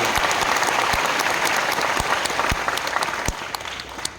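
An audience at a speech claps loudly and continuously, a dense roar of applause with a few sharp, close individual claps standing out, easing slightly toward the end.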